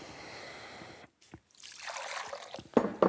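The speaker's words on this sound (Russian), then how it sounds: "смочу руки водой." Kitchen tap water trickling as a cook wets gloved hands while making Burmese-style meatballs: a soft, faint dribbling splash that breaks off briefly, then resumes with light patters and small splashes near the end.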